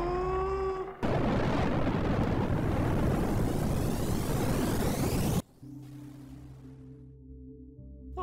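A cartoon atomic bomb explosion erupts suddenly as a loud, sustained roaring blast lasting several seconds, then cuts off abruptly into quieter musical tones.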